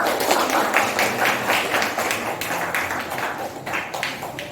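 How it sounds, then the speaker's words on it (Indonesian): A classroom of students claps their hands together in a dense, sustained round of clapping, loud and close, with no talk over it. "Ya, tepuk tangan semuanya."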